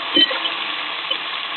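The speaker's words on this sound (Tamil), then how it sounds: "இப்போ நம்ம 5 பச்சை மிளகாய் ஆட் பண்ணிக்கலாம். ஆட் பண்ணி நல்லா வதக்கி விடணும்." Green chillies fry in oil for Tamil mutton kulambu, a soft, brief sizzle with a light stirring scrape at the start, close and fairly quiet.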